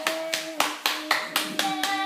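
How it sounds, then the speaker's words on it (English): A baby claps small hands at a first-birthday present opening, about eight distinct soft claps in a steady rhythm, close by, with a faint tonal hum running underneath. "Clap, buddy!"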